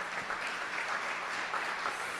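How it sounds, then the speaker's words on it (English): Audience at a peacebuilding awards event gives steady, dense hand clapping, a sustained wash of applause at moderate distance with no talk over it. "Hand clap."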